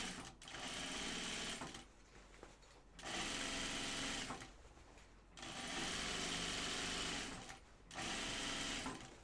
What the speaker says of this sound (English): So I'm just going to stitch along, making sure I'm leaving a 1-inch wide space for the elastic.